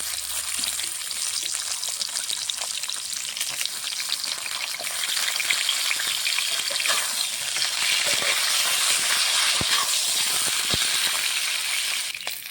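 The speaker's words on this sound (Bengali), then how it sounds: "বেগুন ভাজবো এখন" Eggplant slices frying in oil left over from frying fish, a steady, dense sizzle that swells slightly partway through, with occasional faint clicks and scrapes close by and no talking.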